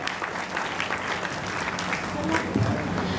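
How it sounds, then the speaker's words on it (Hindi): At a state-level talent award ceremony of the Ghosi community, an audience applauds the children being honored, a continuous, even burst of clapping with scattered sharper claps throughout. "तालियां हर बच्चे की होनी चाहिए"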